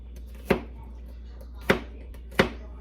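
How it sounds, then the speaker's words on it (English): Three separate knife chops on a cutting board while roughly chopping food for carne asada, sharp close thuds spaced unevenly over a low steady background hum. "And then I'm going to just roughly chop it."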